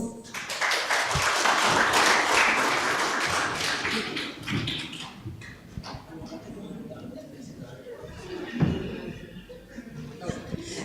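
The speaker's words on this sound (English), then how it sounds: "Ladies and gentlemen, big applause" Audience applause at an international conference on sexual violence and child protection, a broad wash of clapping that swells early and then thins, with talk and scattered taps continuing underneath.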